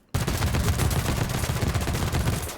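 A SAW machine gun in Halo 5 fires explosive rounds in one loud, continuous burst of rapid, heavy shots that starts abruptly after a brief silence and booms up close throughout, with no voices.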